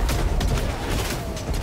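Rapid gunfire from Total War: Three Kingdoms, a dense crackling fusillade of several shots with booming low end, loud and continuous for under two seconds with no speech.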